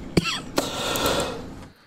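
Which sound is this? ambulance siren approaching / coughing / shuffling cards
coughing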